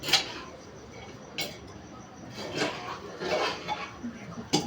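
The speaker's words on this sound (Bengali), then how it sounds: "ভালো করে নেড়ে নিচ্ছি" A spoon scrapes and clinks against the metal of an old pressure cooker pot as dalia and lentils are stirred, with sharp intermittent knocks over a low background hiss.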